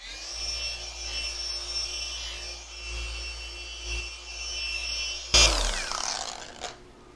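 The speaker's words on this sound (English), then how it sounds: "I'm going to hit it with the polisher and see what happens." A car paint polisher hums with a low droning motor while buffing paintwork on a vehicle with a poor paint job, then its pitch jumps into a louder whirring burst as the pad bites, close by with no voices.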